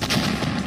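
A loud, rumbling blast with a rough, crackling roar fills the short moment, sounding like a heavy explosion close by, from an attack on an administrative building in Kharkiv.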